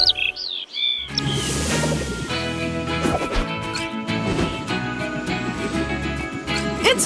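Cartoonish bird chirps and tweets open a scene in the video game PAW Patrol Rescue World, followed by bright, bouncy game music with tonal jingles and effects, all fairly loud and close.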